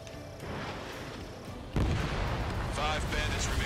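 Missile impacts and explosions in the combat flight game Ace Combat 7, heavy booming bursts over a steady jet roar, a big blast near the middle, with radio chatter underneath.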